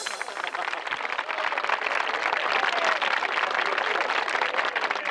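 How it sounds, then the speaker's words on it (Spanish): Dense, steady applause from a theatre audience fills the whole stretch, loud and continuous with many hands clapping at once, a sustained wash with no voices standing out. "Dankeschön, merci, por vuestros aplausos y entusiasmo"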